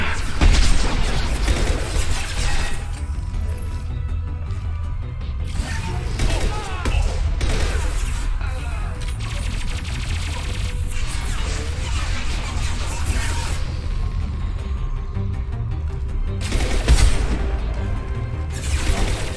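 Gunfire in Mass Effect 2 on Insanity difficulty, dense repeated weapon bursts and booms running throughout, loud and steady, with bursts of impacts near the start and end.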